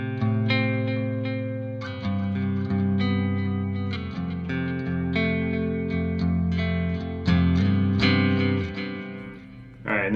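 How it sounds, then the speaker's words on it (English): Clean electric guitar chords through a reverb pedal ring out with a spacious reverb tail, notes sustaining and overlapping as each strum decays. "We've got the reverb pedal. We're gonna crank that on."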